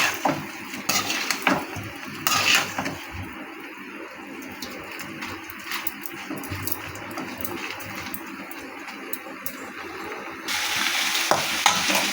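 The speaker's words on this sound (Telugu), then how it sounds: "అన్నీ వేసేసుకున్న తర్వాత దీన్ని మొత్తం ఒకసారి కలపెట్టుకోవాలి" Tiger prawn fry is stirred in a pan, with a spatula scraping and clinking against the metal in repeated strokes over a continuous sizzle, close and fairly loud, with no talking.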